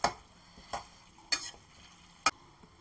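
Salted Pallipalayam chicken stirred in a pan, a few sharp utensil scrapes and clinks spaced apart over a faint low sizzle, quiet and close.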